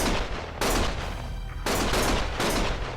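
Gunfire bursts in Lost Judgment, with dense broadband volleys starting and stopping in several loud waves over three seconds, no talk.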